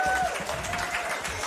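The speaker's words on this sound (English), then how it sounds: "Yes, we're doing a lot of clapping" A church congregation claps together during a celebration service, a steady dense patter of hands filling the room, with a brief sustained tone at the start.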